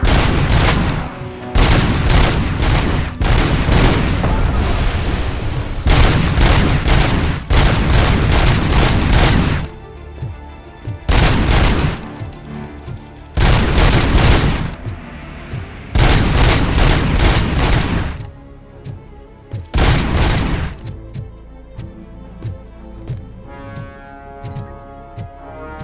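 A Cobra cannon in the RoboCop: Rogue City video game fires in loud, booming bursts of rapid heavy shots, repeated several times with short pauses between, followed by quieter ambient sounds and faint music; no talking.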